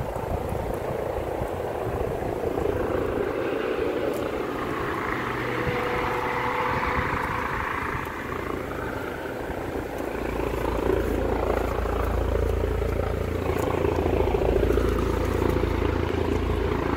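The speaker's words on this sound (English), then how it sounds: "Low-flying helicopters." A low-flying helicopter with a steady rotor drone that swells and shifts as it passes, loud and continuous with no talking.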